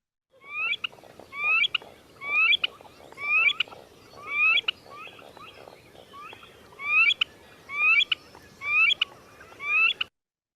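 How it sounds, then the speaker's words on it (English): Grebe calls recorded on a wetland: a regular series of about ten bright, rising melodic notes in short bursts, fairly close and clear over a faint background hum. "more melodic than some of those other grebe calls that we've been hearing"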